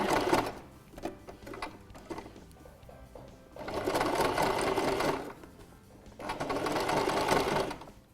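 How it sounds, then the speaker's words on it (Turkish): A Singer sewing machine topstitching a collar attached to a garment body: two sustained runs of rapid, whirring stitching separated by quieter pauses with light handling noise, close and fairly loud. "Alt çımamızı çektikten sonra üste doğru çımamızı devam ettiriyoruz spor dikiş şeklinde"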